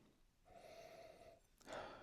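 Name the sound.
sniffing a glass of wheated bourbon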